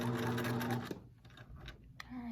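A sewing machine runs a short steady burst while stitching an eye mask, stopping abruptly just under a second in, followed by quiet handling noises and a voice nearby.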